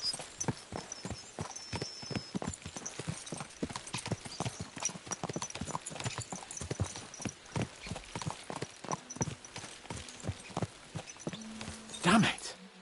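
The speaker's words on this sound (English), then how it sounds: "Let's really spur these horses on, eh?" Several horses clip-clop along in Kingdom Come Deliverance 2, a steady rapid rhythm of hoofbeats close by for over twelve seconds, ending with a short whinny or snort.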